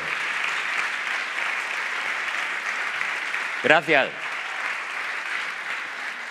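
A comedy festival audience gives steady, dense applause that fills the room, broken briefly by a single short spoken word near the end before the clapping carries on.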